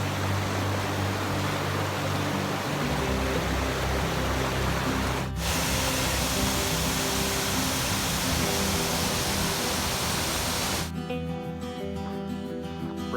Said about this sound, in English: about to ford Canyon Creek